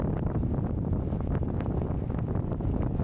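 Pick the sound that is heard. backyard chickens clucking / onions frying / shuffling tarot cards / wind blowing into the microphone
wind blowing into the microphone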